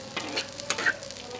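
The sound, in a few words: stirring and sautéing spices with soy sauce in a pan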